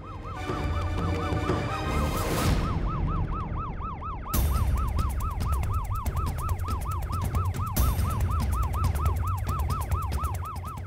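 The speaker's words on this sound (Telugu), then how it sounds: "అంబులెన్స్?" A loud, continuous wailing ambulance siren rising and falling in a rapid repeating cycle, with traffic rumble underneath.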